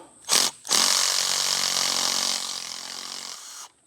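A cordless drill whirs briefly, pauses, then runs in a long steady high-pitched whine as it drives a self-tapping screw, slowing slightly before stopping.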